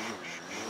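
A duck quacks loudly and close in a short burst during a hunt, a raspy nasal call with no talking over it.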